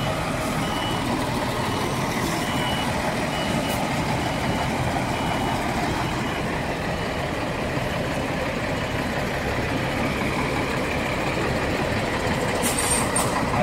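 Goianésia company buses running along a street in Goiânia, a continuous loud rumble of heavy diesel engines and road noise, with a brief high squeal near the end and no talking.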